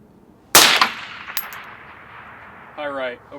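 A Palmetto State Armory SABRE AR10 rifle fires a single loud, sharp shot at a 600-meter target, its crack decaying into a trailing echo, with a faint ringing after it and a buzzy electronic tone near the end.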